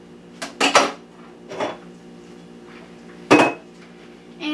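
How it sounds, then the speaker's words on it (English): Fresh pumpkin seeds go into a metal kitchen strainer, giving a few scattered clinks and rattles in separate bursts, close up in a quiet room with no talking. "once you've acquired new fresh seeds, put them in a strainer"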